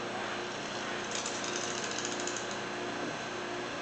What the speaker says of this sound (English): we're going to prime the engine with oil pressure